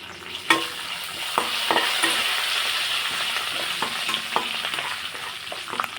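Curry leaves and green chilies sizzle steadily in hot oil in a pan, a continuous frying hiss broken by sharp spatula scrapes and stirring knocks.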